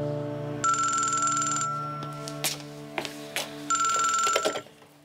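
A telephone rings indoors in a Korean TV drama scene, two loud electronic ring bursts separated by a pause, with a low musical drone and a few clicks and knocks underneath.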